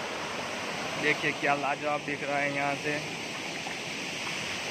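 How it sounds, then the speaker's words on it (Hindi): An outdoor waterfall in light rain gives a steady, broad rushing roar throughout, while someone speaks briefly over it. "देखिए झरनों का आवाज़ सुनिए, सिर्फ क्या लाजवाब लगता है"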